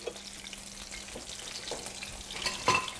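Chard sizzles in a pan under a steady frying hiss, with soft stirring scrapes and a sharper clatter near the end, close and moderately loud.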